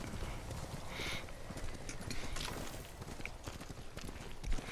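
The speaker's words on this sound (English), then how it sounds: "Let's call up our horse and head down towards the location area" Rapid horse hoofbeats clatter steadily in a galloping rhythm, mixed with ambient sounds throughout, in the video game Ghost of Tsushima.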